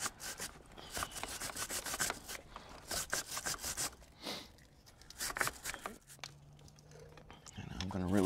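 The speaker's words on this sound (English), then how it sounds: "Grab our brush and simply start scrubbing, rotating the wheel as we go" A brush scrubs the drive chain of an MV Agusta F3 800 motorcycle in quick, close, rasping strokes while the wheel is turned. The scrubbing comes in bursts with short pauses between them.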